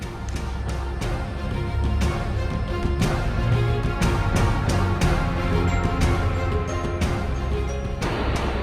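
Steady, dense roar of heavy rain pouring down in southern New Mexico, with occasional sharper splashes and drips standing out against the constant wash.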